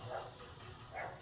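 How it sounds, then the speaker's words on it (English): Household dogs bark faintly in the background at home, with two soft, distant yaps about a second apart over a quiet room hum. "there goes my dogs"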